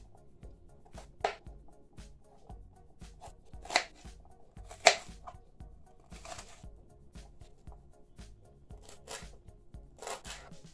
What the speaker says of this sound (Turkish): 2 diş sarımsağım var. Onları da böyle keselim.